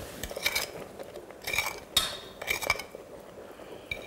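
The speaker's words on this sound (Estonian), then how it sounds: "Ja kaua ma teda segan siin?" A spoon stirring semolina porridge with egg yolk in a pot, a few light clinks and scrapes against the metal in short bursts, quiet and close.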